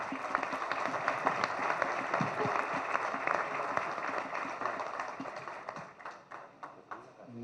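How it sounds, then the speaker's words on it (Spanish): Audience at a political event in Mazatlán breaks into applause, a dense patter of many hands clapping at moderate distance, fading and thinning toward the end, with a little crowd murmur underneath. "Un aplauso, por favor."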